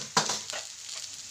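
Chili, coriander and cumin powders fry in a pan, a soft steady sizzle with a couple of brief scraping stir strokes, close and fairly quiet.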